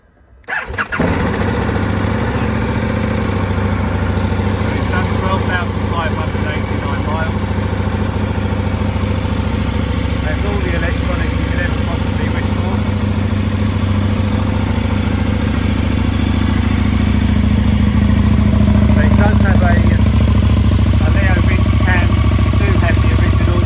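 A 2019 KTM 1290 Super Adventure S with a Leo Vince exhaust cranks and fires up, then settles into a loud, steady, throaty idle close by that continues throughout, with a voice talking faintly underneath.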